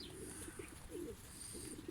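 Pigeons coo softly in a pigeon loft, low throaty murmurs repeating at close range with a faint chirp or two, quiet and without talk.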